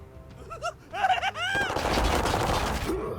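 Rapid bursts of gunfire from the video game Daemonhunters rattle loud and near, swelling into a dense, continuous fusillade over the second half, with game sounds and tonal effects layered in before it.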